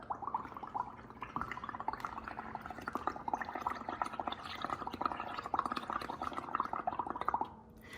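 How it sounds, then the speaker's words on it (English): Bubbles are blown through a straw into a cup of paint solution, a bubbling, gurgling burble that runs continuously for several seconds before stopping abruptly. "And then you're basically just gonna blow bubbles."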